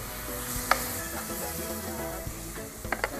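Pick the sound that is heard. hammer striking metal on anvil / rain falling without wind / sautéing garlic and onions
sautéing garlic and onions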